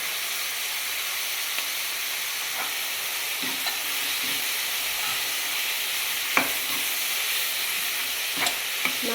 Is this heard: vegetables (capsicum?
yes